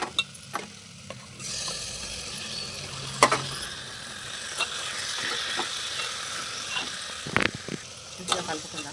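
Tomatoes hit a hot pan of spiced shamagada charu (tamarind rasam base) and sizzle loudly, a continuous close frying hiss broken by clinks and scrapes of stirring.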